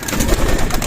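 Young racing pigeons are released from their loft in a short, loud, close flurry of wingbeats and fluttering mixed with soft cooing.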